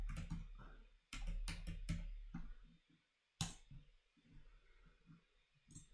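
Typing on a Mac computer keyboard, quiet clusters of soft key clicks in irregular bursts with short pauses, close and faint.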